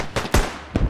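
A grenade goes off in a World War 1 shooter game: a few sharp, close blasts in quick succession within under a second, loud and punchy with no talk over them.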